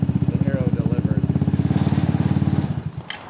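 A 2023 Vespa GTS 300 HPE fitted with a brand-new Arrow exhaust idles nearby with a loud, rapid pulsing putter, then cuts off near the end, with a voice talking over it.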